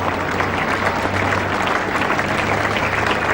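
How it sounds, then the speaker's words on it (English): Crowd applause at a 1975 England versus Australia cricket Test match, a dense, steady wash of clapping from a large stadium audience, loud and sustained throughout. "And the applause."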